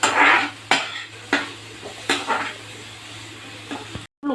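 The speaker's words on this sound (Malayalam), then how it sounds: "അതിന് ശേഷം നമുക്ക് സവോള കൂടി ഇട്ട് കൊടുക്കാം. പച്ചമുളകും കരിവേപ്പിലയും കൂടി ഇടാം. നമുക്കിനി ഒന്ന് വഴറ്റിയെടുക്കാം." Onion, green chilies and curry leaves sautéed in a pan, with a metal spoon scraping and clanking against the pan in repeated sharp strokes over a soft sizzle, close up, ending in a brief dropout.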